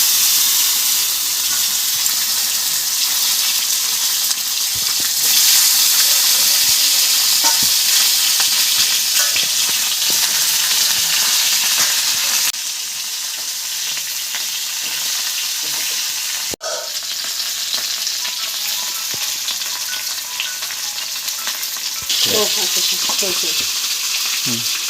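Cauliflower florets frying in hot oil for a Bengali fish curry with potatoes, a steady loud sizzle with occasional stirring clatters and brief shifts in intensity, no talking.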